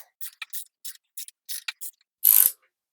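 A Porsche MA1 9A1 engine's crankshaft is turned over by hand during a cylinder-head and camshaft-timing rebuild, giving a string of short, close mechanical clicks and ratchet-like ticks in an irregular rhythm, ending in a louder brief rasp.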